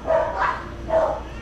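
A dog gives two short, whining yelps about a second apart, fairly close and moderately loud, with no other sound around them.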